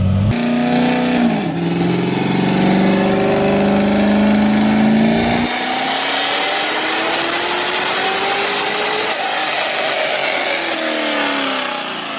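A Corvette engine revs hard on a dyno during a tuning pull, a loud sustained roar that climbs steadily in pitch, drops briefly as it shifts, then keeps rising with no talk over it.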